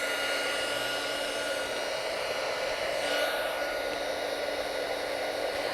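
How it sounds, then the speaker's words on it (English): A small handheld heat tool, hotter than a blow dryer, blows steadily to shrink foam, giving a continuous close whoosh with a hot-air hiss throughout and no talking. "So it's a little heat burning tool, and I can actually shrink the foam underneath."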